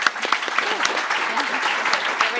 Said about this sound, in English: can I have a warm round of applause for Anie?